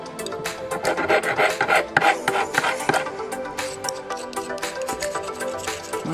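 A hand file works a homemade fishing dart, or mini harpoon, in quick repeated scraping rasp strokes, close and loud, with a ringing metallic edge to each pass.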